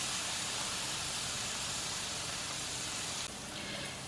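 Ginger garlic paste and green chilies sauteing in a hot pan for brinjal masala, a steady loud hiss and sizzle running throughout with no talking.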